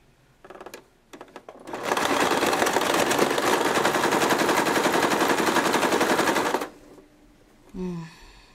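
A sewing machine runs in one long steady burst of rapid stitching along a Waldorf doll seam, with a few short start-stop bursts just before it and a brief clunk afterward.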